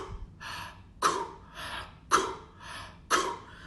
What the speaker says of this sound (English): And then the way you exhale it is like a cough.